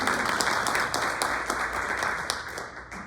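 Steady audience applause fills a panel discussion on women architects, dense clapping holding at an even level without break for the whole stretch.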